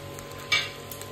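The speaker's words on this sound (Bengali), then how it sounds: "ওর মধ্যে রাইস দিয়ে দিই, দুইদিকে ভেজে নেব" Rice frying in a little ghee in a pan, a steady close sizzle with one brief louder scrape or hiss in the middle.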